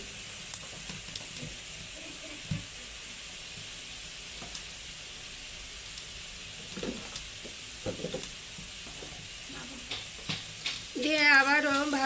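Banana flower stirred in a frying pan with turmeric and salt, giving a quiet sizzle with occasional spatula scrapes and clinks, and a louder burst of frying near the end.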